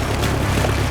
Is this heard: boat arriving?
yes